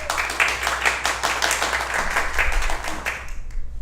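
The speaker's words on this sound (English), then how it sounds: "I could hear distant clapping" An audience at a musical tribute concert claps in a dense, sustained round of applause over a low steady hum, fairly close and full, fading slightly at the end.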